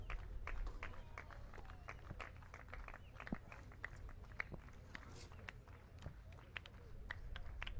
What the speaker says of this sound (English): You hear the claps ring out from across McKeon Park.